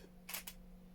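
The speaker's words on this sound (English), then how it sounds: "Don't know if you even heard that. It's a really, really quiet shutter." A Nikon Z5 mirrorless camera's shutter fires once, a very quiet, soft double click over faint steady background hum with no talking.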